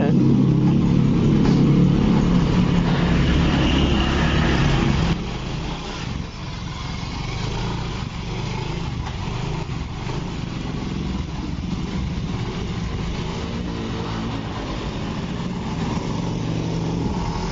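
A Yamaha Fino 125 scooter with a rough-running engine and low power, its valve clearance at fault, on a test ride: a steady engine drone and road noise, louder at first then settling to an even hum, with no voices.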